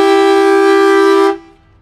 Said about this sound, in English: air horns. Air horns, I love it.